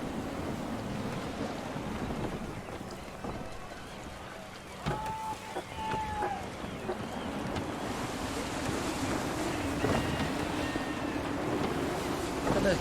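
Gusty wind at sea while sailing a ship in the video game Assassin's Creed 3, a constant rushing wind over waves and creaking hull, with a couple of brief tonal calls midway, rising slightly toward the end.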